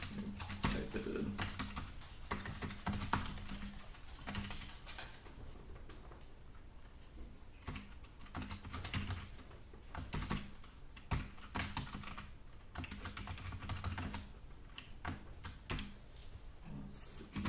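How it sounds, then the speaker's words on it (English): Someone types on a computer keyboard in a long, busy stream of clicks and clacks. The keystrokes come fast and fairly close, with brief pauses between bursts, and no one speaks. "Type it in."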